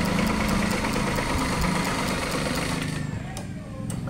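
An NMAX scooter engine idles with a steady, rattling putter, close up, with a few faint ticks and knocks near the end.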